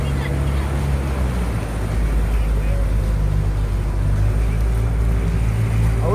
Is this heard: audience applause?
no